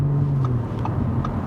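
An Audi S4 V6 sedan cruising in S mode a gear lower, a steady low engine hum and road rumble from inside the cabin, with a few faint clicks, and no talk.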